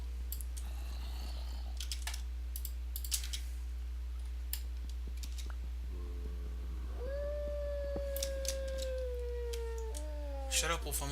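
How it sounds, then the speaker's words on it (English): A wolf howls in Minecraft with the Better Than Wolves mod, a clear rising then slowly falling tone near the middle, with a second fainter howl later, over low steady background hum and scattered clicks. "Shut up, Wolf, I'm listening."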